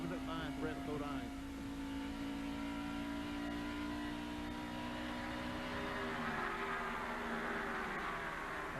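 Stock cars racing in the 1990 AC Spark Plug 500, with a continuous roar of engines droning and shifting in pitch under a commentator's speech throughout.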